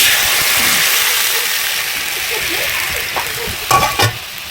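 Steady, crackling sizzle of yogurt added to a hot pan with curry leaves, close and continuous, with a few soft clinks near the end.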